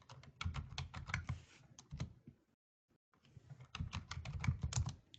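Rapid clattering keystrokes on a computer keyboard while entering a Linux command, in two dense bursts separated by a brief silent pause, close and clear.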